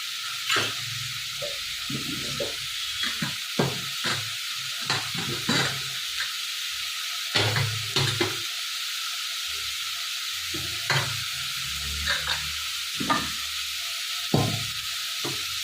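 Dal and spices frying for a wedding-style drumstick sambar make a constant close hiss of sizzling oil, broken by irregular soft clunks and scrapes of stirring in the pan.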